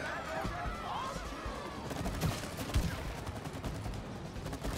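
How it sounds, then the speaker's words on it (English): Rapid gunfire in the co-op action game It Takes Two, a dense stream of shots and impacts with busy game effects layered throughout, loud and continuous over the whole stretch. "I'm just shooting everything right now."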